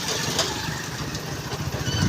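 Motorcycle engine running on a farm near a maize field, a steady close rumble that holds at an even level with no speech over it.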